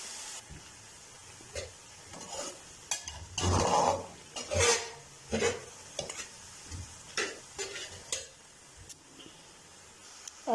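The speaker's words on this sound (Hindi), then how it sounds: "अच्छी तरह टमाटरों को जो है भून लेंगे 3 से 4 मिनट के लिए।" Tomatoes sautéing in a pan for a fish masala curry, stirred with a spatula in repeated scraping strokes and clinks over a light sizzle, up close with no talking.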